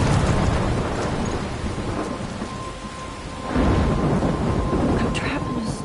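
Thunderstorm in the video game Life is Strange Remastered: steady heavy rain with deep rolling thunder, a louder rumble swelling midway, continuous and close, with no one speaking.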